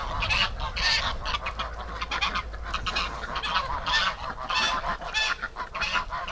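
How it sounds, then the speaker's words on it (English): Gray domestic goose honking repeatedly in loud, close, harsh bursts, several calls overlapping in a steady outdoor chorus. "Look at that gray goose."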